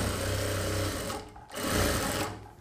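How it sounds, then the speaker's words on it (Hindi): A sewing machine stitches a half-inch seam on a blouse sleeve strip, loud and close, running in two steady whirring bursts with a short pause between them. "आधा इंच की सिलाई लगाएंगे हम और ऐसे कर कर इसको चला देंगे"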